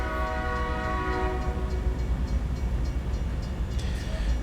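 In American Truck Simulator, a train rolls along tracks beside the road, its horn blaring for the first couple of seconds over a continuous low rumble of rail cars that carries on alone.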